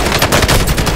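Loud, close automatic gunfire from Call of Duty Warzone rattles out as a rapid burst of about a dozen shots in quick succession.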